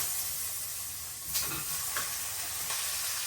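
Potatoes and flat beans sauté in a pan with cumin, giving a steady, moderately quiet sizzle and hiss with a few brief stirring scrapes; no one speaks.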